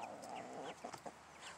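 Leghorn hens clucking close by in a backyard flock, a few soft throaty clucks and short calls over quiet outdoor background.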